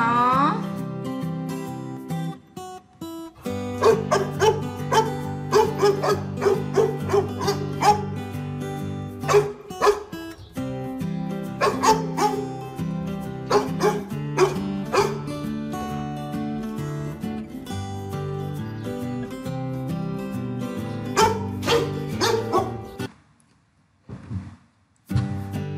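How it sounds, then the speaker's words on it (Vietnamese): Dog barking in short repeated yips and barks over a children's song, the calls scattered through a steady musical backing that drops out near the end. "Con chó."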